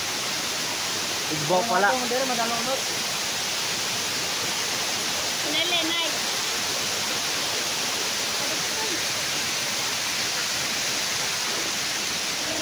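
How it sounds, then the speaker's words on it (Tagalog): Gaas Falls rushes as a steady, broadband roar of falling water that fills the scene without a break, and a voice speaks briefly over it twice. "Ang falls na ito ay tinatawag na Gaas Falls."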